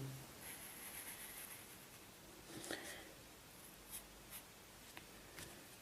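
Chalk or marker writing on a board during a physics lecture on electric dipoles, faint scratchy strokes with a few short taps, quiet and without talk.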